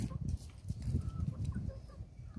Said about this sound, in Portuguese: Aqui tem um pouco de galinha.